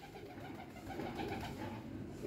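High flyer pigeons, a young Teddy cross hen among them, cooing softly in a loft, with continuous low murmuring coos layered close together and no talk.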